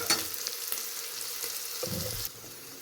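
Green chillies and curry leaves fry in hot oil in a pan, a close steady sizzle with a brief stir-like scrape near the end before the sizzle drops off.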